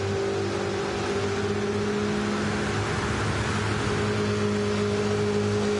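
Race car engine roaring steadily in a racing video game during a championship event, a loud continuous drone with sustained tonal harmonics throughout, no voices over it.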